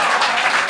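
Audience clapping for a performer on stage, a brief dense burst of many hands at steady moderate loudness.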